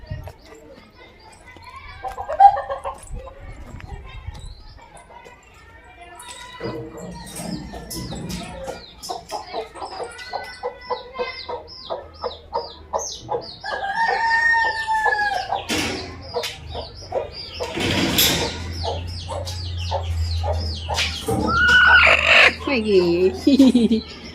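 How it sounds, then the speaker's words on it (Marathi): Backyard chickens, a hen settled to lay an egg and a rooster, cluck in repeated bursts with crowing calls rising toward the end, near and fairly loud, with other busy background noise. "इथं एक अंडा द्यायला कोंबडी बसली आहे."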